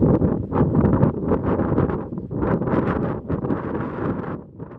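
Strong, gusty wind buffets the microphone on a pier at Fair Isle, an isolated rock between the North Atlantic and the North Sea. The roar stays loud and continuous throughout, swelling and easing in broad surges with no voices.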